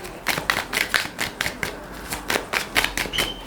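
Tarot cards are shuffled and drawn from a deck in quick, papery riffling bursts, close and soft, with short gaps between flurries over a few seconds and no voice.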